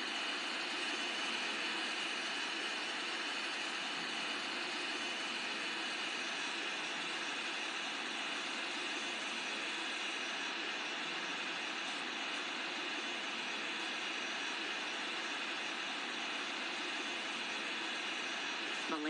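Boeing 777-300ER jet engines taxiing at Kuala Lumpur in the Infinite Flight game, a steady, even whine and roar held at constant level throughout, with no talk over it.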